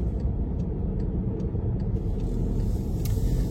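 A car pulling out of an examination center parking lot, its steady engine and road rumble filling the whole stretch at close range with no talking.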